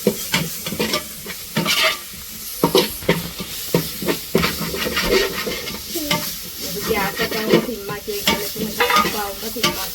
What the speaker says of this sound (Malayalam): ഇഞ്ചി വെളുത്തുള്ളി പേസ്റ്റ് ഇട്ട് കഴിഞ്ഞാൽ വേഗം അടിപിടിക്കും